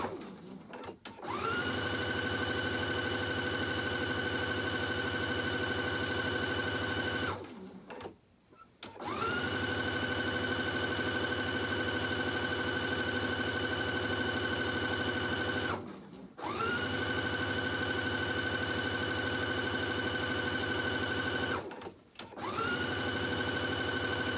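A sewing machine with a built-in walking foot stitches along a fabric strip for a nine-patch quilt block, humming steadily and loudly in four long runs separated by brief pauses.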